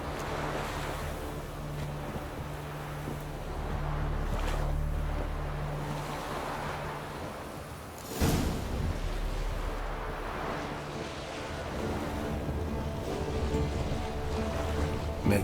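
Lapping lake water around a small boat in the game Witcher 3, a soft continuous wash with a brief splash or knock midway and low ambient hum.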